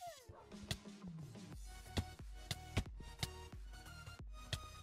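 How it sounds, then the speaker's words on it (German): Dogs in the Minecraft video game yip and bark in a rapid series of sharp, close, bright bursts, several overlapping at an uneven rhythm after a short whine at the start. "Warte, wie viele Hunde hier sind."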